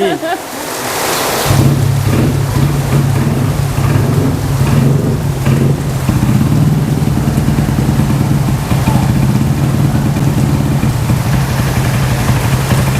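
A Honda Giorno 125 scooter with a cold engine catches after a moment of quiet and settles into a steady, close idle that drones evenly for the rest of the clip.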